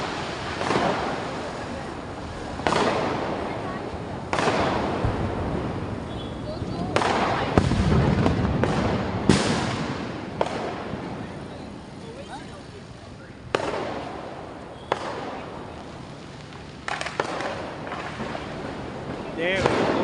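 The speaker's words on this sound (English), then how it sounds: "I switched on the camera because I saw some fireworks around here." Diwali fireworks burst at irregular intervals in Hiranandani, sharp booms and crackles at middle distance, with a steady background rumble between explosions.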